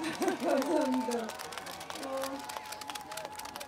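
Crowd cheering and shouting at an outdoor festival concert by a lake park, a loud burst of voices early that fades into lighter murmuring and scattered applause.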